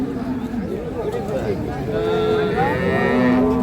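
A dairy cow moos loudly and close at the Ambari cattle market in Dinajpur, one long drawn-out low call rising in pitch, with faint crowd murmur behind.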